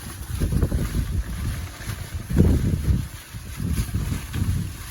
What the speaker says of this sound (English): And you'll see the wind getting terrible.